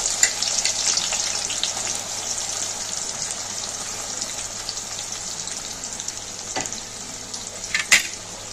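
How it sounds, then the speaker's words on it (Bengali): Chopped onion dropped into hot ghee, a loud continuous close sizzle that settles into steady frying, with a couple of sharp clinks near the end. "ঘিটা গরম হয়ে গেছে, ঘিয়ের মধ্যে পেঁয়াজ কুচানোটা দিয়ে দেবো।"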